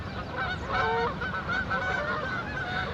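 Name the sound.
flock of geese honking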